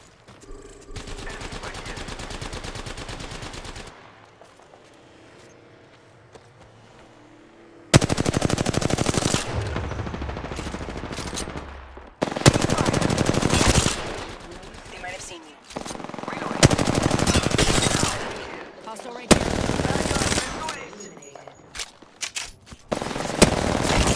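Automatic weapon fire in the battle royale game Apex Legends: loud, sustained bursts of rapid shots separated by short gaps and a quieter stretch, with a player's voice calling out occasionally.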